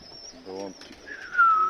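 A pigeon gives a short, soft coo at close range during an evening feeding in cold, windy weather, followed by a brief tonal call, with quiet background noise.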